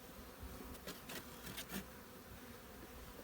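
Honeybees buzz during a hive transfer: a faint, continuous drone with several brief, louder passes as individual bees fly close.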